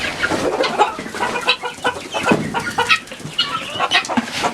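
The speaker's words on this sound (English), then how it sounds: "There is Eileen, the one-legged rooster" Eileen, a one-legged rooster, clucks in a busy run of short, irregular calls, close by and fairly clear, with no talking.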